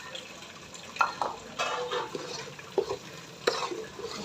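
A spoon stirs semolina halwa with half a kilo of sugar in a pan, producing scraping, grainy stirring and occasional sharp clinks against the metal in an irregular close rhythm.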